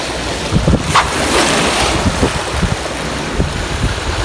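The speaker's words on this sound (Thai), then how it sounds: "ลมมาจากฝั่งนี้เนาะด้านหน้านี้นะครับ" Strong wind blowing across open water on a fishing trip, a loud continuous roar buffeting the microphone, with faint lapping water and small knocks beneath it and no speech.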